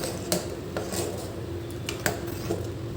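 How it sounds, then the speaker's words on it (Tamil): A spoon mixes mashed potato in a bowl for pani puri masala, giving a few sharp metallic clinks against the bowl over a soft, continuous scraping rub. "அந்த உருளைக்கிழங்கு எடுத்து கொஞ்சமாக போட்டு நல்லா கலந்து விட்டு வச்சுக்கலாம்"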